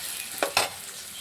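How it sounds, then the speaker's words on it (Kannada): Onion fries in a little oil in a pan, a steady soft sizzle with two brief louder stirring scrapes, close and fairly quiet. "ಇದು ಉಳ್ಳಾಗಡ್ಡಿ ಸ್ವಲ್ಪ ಎಣ್ಣೆ ಫ್ರೈ ಆಗುತ್ತೆ ರೀ"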